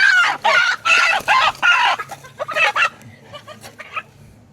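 A chicken clucks repeatedly in loud, close bursts, then the calls grow softer and more scattered toward the end.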